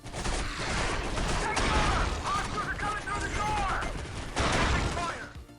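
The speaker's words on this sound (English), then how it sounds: "dual-wielding shotguns is actually so much fun" Dual-wielded shotguns blast in the 2005 Area 51 video game, in a dense, continuous barrage of heavy shots with clanking mechanisms, loud and close throughout.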